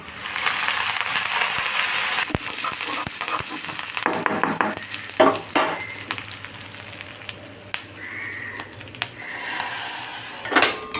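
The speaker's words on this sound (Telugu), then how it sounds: "కొద్దిగా నూనె వేసుకుంటాం ఇప్పుడు దీనికి పోపు పెట్టుకుంటాం మనము కొద్దిగా ఆవాలు ఇప్పుడు ఇది పడపడ అంటుంది కదా" Mustard seeds, asafoetida and curry leaves spluttering in hot oil for a tempering, a steady close sizzle with scattered sharp pops and a few utensil clinks, heard alone without talk.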